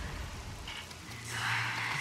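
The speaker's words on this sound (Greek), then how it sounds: "Και επίσης βρέχει." Rain falls steadily in the video game Killer is Dead, a dense hissing wash that swells louder toward the end, with no talk over it.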